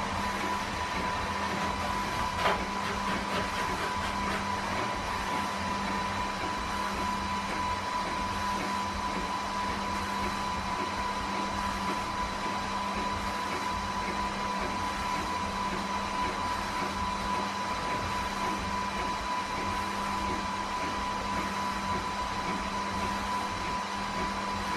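Several school photo printers running in a room as a print of all the pupils comes out: a constant whirring mechanical hum with a steady tone, unbroken for the whole stretch with no voices.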